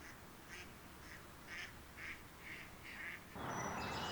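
A common wild duck quacks in a steady run of about seven evenly spaced calls, fairly faint outdoors, before a louder burst of noise at the end.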